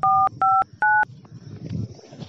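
Three loud telephone keypad tones beep in quick succession, then quiet room sound with faint background murmur.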